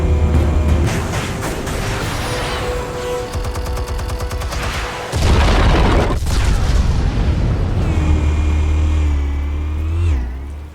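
Explosives detonate in Batman: The Telltale Series amid loud game action, with heavy booms and crackling bursts layered over engine-like roars and rising whines, dense and close throughout.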